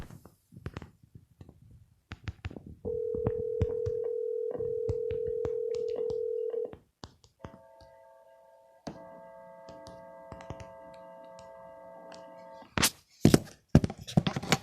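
A telephone placing a real estate cold call in the San Diego market: a few keypad clicks, then a steady dial tone, a burst of dialing tones and a long ringback-like chord, followed by handset clunks, all fairly close.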